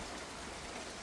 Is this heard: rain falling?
yes